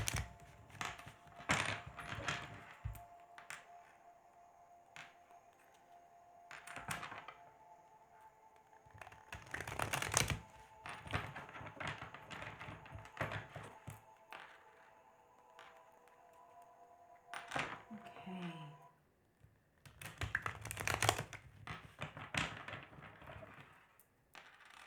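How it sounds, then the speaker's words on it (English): A deck of tarot cards is shuffled by hand up close in repeated crisp, riffling bursts. Brief pauses fall between the flurries, and no one speaks. "Let's give these cards a little bit more shuffle."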